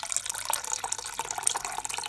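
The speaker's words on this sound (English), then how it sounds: "I'm going to add in some water." Water is poured from a vessel into dal fry while it is being mixed in a home kitchen, a short, close splashing trickle with no talking.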